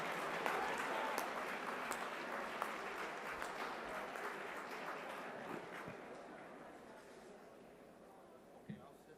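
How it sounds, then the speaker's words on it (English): A room of mayors at an annual meeting's opening plenary session in San Francisco applauds Secretary of State Hillary Clinton, with a dense, steady wash of clapping that gradually tapers off, with some voices mixed in. "we need to give one more round of applause for the Secretary of State"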